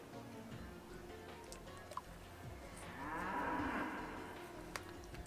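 A cow moos in the Miitopia video game, a quiet lowing call that swells for about two seconds in the middle over steady game music and ambience.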